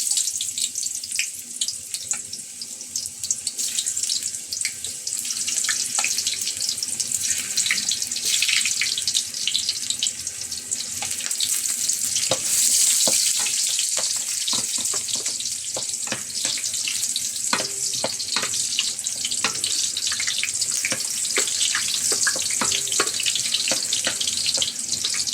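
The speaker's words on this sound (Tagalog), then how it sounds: "Magigisa na tayo guys. Unahin natin ang luya." Ginger hitting hot cooking oil in a pan as squid adobo begins, a steady close sizzle and crackle with small pops running throughout, no voices.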